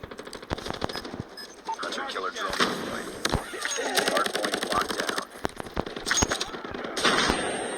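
Rapid in-game gunfire and explosions from Call of Duty Mobile, with bombs thrown and bursting in quick succession over a constant battle din, while someone talks excitedly over it.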